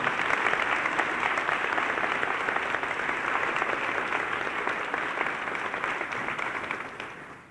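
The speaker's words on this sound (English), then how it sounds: "Now let's give them a big round of applause." A school audience at an elementary class day ceremony claps steadily, a dense, even wash of applause that holds for several seconds before tapering off at the end.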